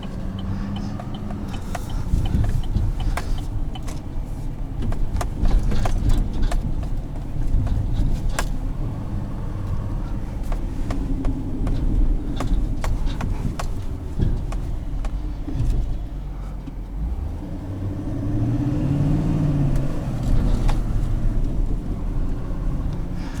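A 2020 Chevrolet Silverado 6500HD heavy truck rolls downhill with its exhaust brake engaged, giving a loud, steady low engine rumble and drone with occasional clicks and road knocks, no talking.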